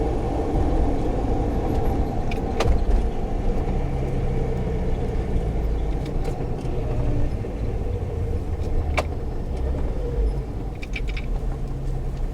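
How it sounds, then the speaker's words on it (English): A Jeep Grand Cherokee ZJ with a swapped AX15 five-speed manual cruises on a highway in fifth gear, its engine and road noise a steady, loud low rumble throughout with no talk. "Fifth gear right now, doing about 55 kilometers an hour"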